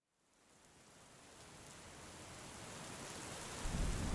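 Heavy rain fades in and swells into a dense, steady downpour with a low thunder rumble building at the end, a storm backdrop for a horror story with no voices.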